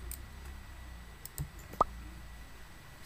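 A computer mouse clicking during play of the sandbox game Mini World, a few faint, sharp, isolated clicks over a quiet background hum, one slightly louder than the rest.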